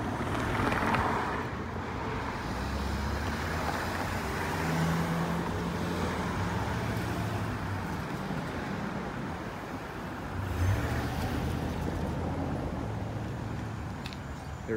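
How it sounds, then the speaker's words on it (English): Road traffic rolling past a railroad crossing where the gate has malfunctioned, a steady low rumble of cars and heavier vehicles at moderate distance, swelling slightly as vehicles pass, with no voices. "Because traffic is getting really bad."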